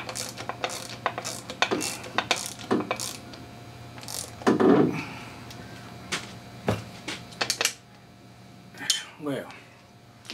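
A pneumatic zipper gun working bolts off an Evinrude 15 hp outboard motor, heard in a series of sharp, brief rattling bursts spaced irregularly, with quiet pauses between them and a few louder clanks.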